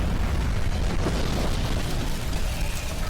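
A loud, sustained explosive roar in the animated series Skibidi Toilet Multiverse rumbles steadily throughout, dense and booming, with no voices.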